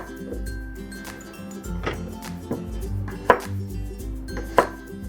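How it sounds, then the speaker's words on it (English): A knife cuts yellow potatoes into quarters on a board: a handful of sharp, separate chops with low knocks between them, close and clear, without talk. "next we'll cut the potatoes in quarters"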